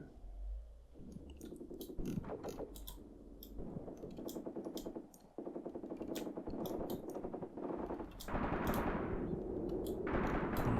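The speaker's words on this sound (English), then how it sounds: "Machine guns over here." Machine gun fire in the tactical war game Graviteam Tactics, rapid rattling bursts repeating one after another with short pauses, fairly loud and dense, over a low battlefield rumble, with no talking.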